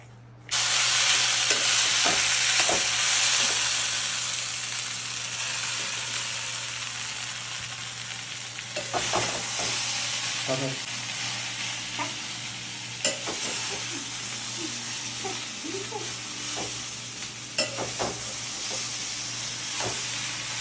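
Morola fish chorchori sizzles steadily in a pan, a broad continuous frying hiss with occasional scrapes and clinks of stirring, close and fairly loud with no talk.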